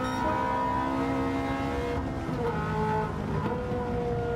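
A 1980s-era production race car at Goodwood revs hard and close, its engine note holding steady and loud for the whole stretch with a brief dip as the throttle shifts, no talk over it.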